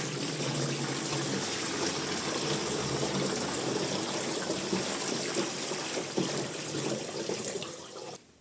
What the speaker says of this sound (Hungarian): Na de töltsük is meg vízzel.